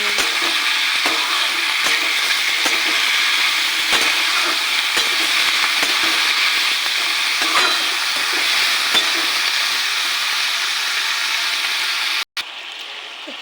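Kamranga beans frying with spring onion, potato and slit green chili in hot oil, a loud continuous sizzle with faint stirring scrapes, cutting out abruptly just before the end.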